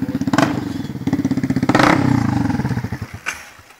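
A Yamaha WR 125 motorcycle with its silencer removed revs hard and close, a loud raw engine note rising and falling through repeated throttle blips with rapid popping exhaust pulses.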